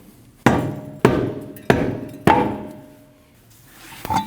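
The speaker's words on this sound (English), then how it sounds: "If your wheel doesn't want to come off, you can hit it with a rubber mallet from behind" A rubber mallet strikes the back of a car wheel on a 2013–2019 Ford Escape to free it, giving four sharp, evenly spaced thuds followed by quieter knocks, close and distinct with no speech.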